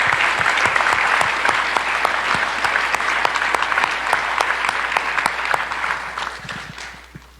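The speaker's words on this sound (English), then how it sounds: "I would just ask just a round of applause for the folks that really did that work that night" A room of people at a community meeting about the Elk Fire claps in a warm round of applause, distinct hand claps over steady clatter that tapers off toward the end.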